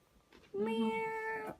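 A cat meows once, a clear drawn-out call close by, with a faint voice before it, heard during a home lunch.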